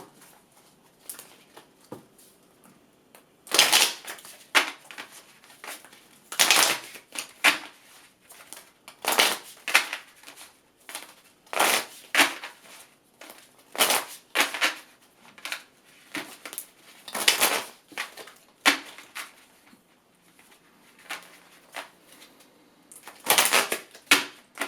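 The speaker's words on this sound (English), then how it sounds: "I'm going to shuffle my tarot" Tarot cards are shuffled close by, giving a run of quick papery riffles and taps in irregular bursts with short quiet gaps between them, and no one speaks.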